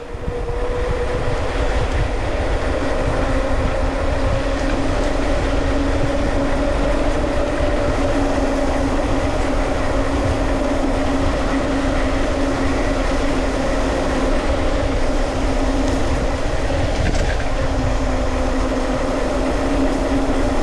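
A train rumbles past steadily for the whole stretch, a continuous low roar with a sustained humming tone, loud and close, no voices.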